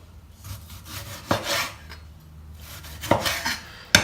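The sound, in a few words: knife cutting a tomato for guacamole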